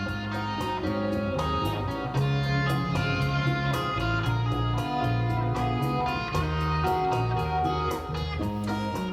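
A modern-day homemade guitar played by a musician, steady plucked notes and strummed chords ringing out in a continuous, moderately quiet melodic passage with no voices.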